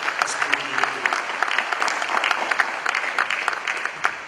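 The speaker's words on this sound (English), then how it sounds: "that deserves a round of applause for what he did" Audience applause at the Asantehene arts awards ceremony, a steady, moderately loud crowd clapping with distinct individual claps standing out, sustained for the whole stretch.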